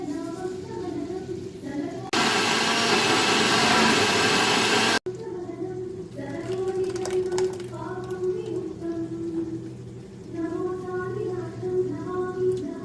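A kitchen mixer grinder whirs loudly for about three seconds as it grinds soaked green gram with green chillies, curry leaves, cumin and salt for pesarattu batter. Speech is heard before and after it.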